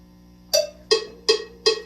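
Four evenly spaced eighth notes plucked on a guitar ring out one after another, each with a sharp attack and a short decaying tone, in a steady rhythm with no voice over them.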